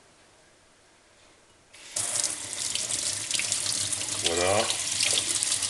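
A kitchen tap turns on and runs loudly, splashing water over the auger parts of a Kuvings B9400 juicer as they are rinsed under the stream, with a brief voice heard over the flow.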